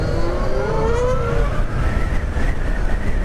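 A Zero SR/F electric motorcycle in sport mode accelerating hard, its motor whine climbing steadily in pitch over heavy wind rush.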